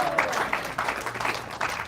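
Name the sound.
audience applause at a lecture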